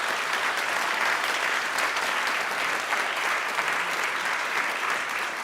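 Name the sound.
applause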